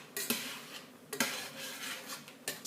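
Chicken of the woods mushroom cooks down in a pan as it releases its own water, giving a soft steady sizzle and bubble broken by a few clinks of a utensil against the pan.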